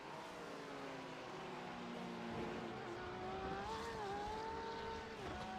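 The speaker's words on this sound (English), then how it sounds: "Can hear the wheel spin." GT3 race car in a racing video game spins its wheels on a wet track, a continuous loud engine drone with rising and falling whining revs throughout, no pauses.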